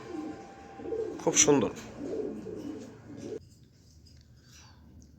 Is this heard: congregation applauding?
no